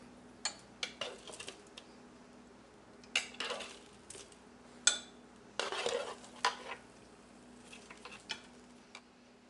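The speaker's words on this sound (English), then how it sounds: "I'm just gonna spoon my shrimp onto this platter" Roasted shrimp spooned onto a white serving platter, a series of sharp clinks and scrapes of a metal spoon on ceramic, irregular and close, with no talk.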